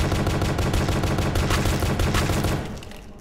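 Sustained rapid gunfire in a shooter video game, dense overlapping bursts filling about two and a half seconds before tapering off, loud and close with no talking.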